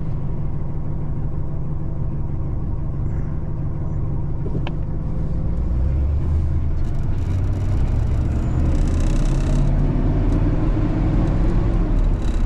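A 1977 Buick Regal engine idles right after a carburetor tune-up, giving a steady, close, low rumble and whir that holds evenly throughout with no talking.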